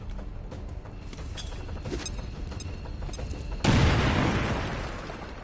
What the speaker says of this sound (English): I'm just gonna throw a grenade at him. Frag out!